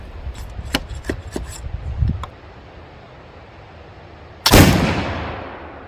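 A Pedersoli Kentucky muzzleloading pistol fires once at about 15 yards outdoors, a single sharp loud blast with a decaying tail, preceded by a few small clicks and handling knocks.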